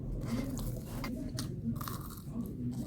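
Crunchy air-fried food bitten and chewed up close, a few crisp crunches over low steady background noise.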